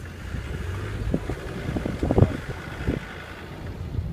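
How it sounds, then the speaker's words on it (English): Strong gusts buffet the microphone on Hard Knot Pass, a mountain road, with rumbling bursts of wind noise rising and falling and no talk. "It's extraordinarily windy."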